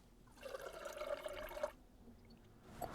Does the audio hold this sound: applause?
no